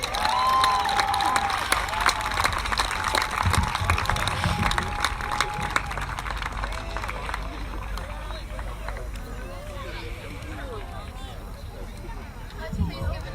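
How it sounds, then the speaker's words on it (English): A crowd at a march rally applauds and cheers outdoors, a sustained wash of clapping and shouts that slowly thins, with a voice briefly heard over it. "Let's please give another round of a hand for Miss Angelina Love."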